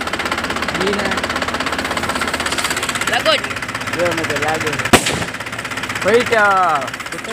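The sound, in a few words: firecracker bombs exploding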